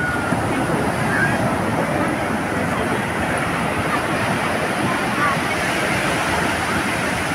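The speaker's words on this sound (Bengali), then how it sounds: "এবং এক একটা ঢেউ আছড়ে পড়ার প্রচণ্ড শব্দ।" Sea surf on the beach at Puri rolls in as a continuous loud, broadband roar of breaking waves mixed with wind, steady throughout with no distinct pauses.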